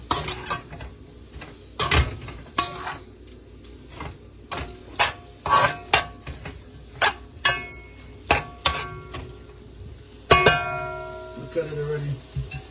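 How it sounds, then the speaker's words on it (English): Jerk-seasoned chicken is stirred in a pan, with a series of sharp scraping and clattering strokes of a utensil against the pan in an irregular rhythm, close and fairly loud, and sizzling underneath in places. "And you want to come back here and give it a little stir."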